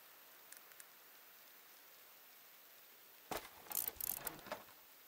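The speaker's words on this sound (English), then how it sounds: "Heavy rain kind of counters" Heavy rain in the video game Diluvian Winds, a faint wash of falling drops that suddenly swells into a louder burst of rain with clicky, uneven bursts in the final second and a half.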